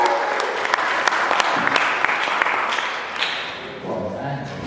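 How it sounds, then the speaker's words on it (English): Small audience applauding as an interviewee is called up at an evening talk event; steady close clapping with a few louder claps, fading toward the end as a voice begins to speak. "give him a big hand of applause,"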